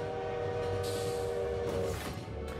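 A train in the video game Slay the Spire, a steady rumbling with a sustained horn-like tone over it, moderately loud and continuous, with no one speaking.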